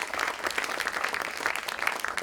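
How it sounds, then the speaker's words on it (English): A panel discussion audience applauds speaker Jeffrey Goodman with dense, even clapping that stays steady and moderately loud for the whole short stretch. "Please give a round of applause to Jeffrey Goodman"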